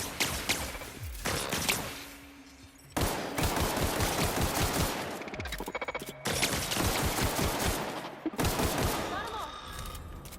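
Rapid rifle fire in the video game The Outer Worlds: repeated loud bursts of gunshots in quick succession, broken by short pauses, close and dominant, with a voice faintly underneath.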